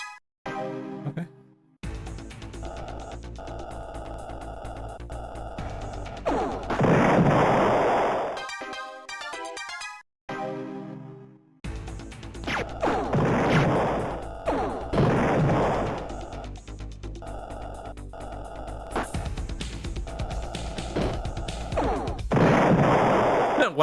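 Spaceship cannons fire in The Ur-Quan Masters space combat, a loud run of repeated blasts and crashing impacts over game music, with a brief drop-out near the middle before the barrage resumes.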